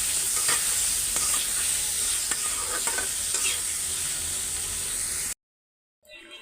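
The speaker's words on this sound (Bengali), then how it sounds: "এখন আলুটাও ভালো করে কষাই নিব সুন্দর করে" Potatoes fry with ground spice paste, turmeric and salt in a pan, giving a loud, steady sizzle broken by spatula scrapes, then cutting off abruptly near the end.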